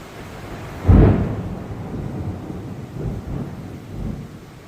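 A sharp thunderclap breaks over heavy rain, followed by softer rumbles and a constant hiss of falling rain.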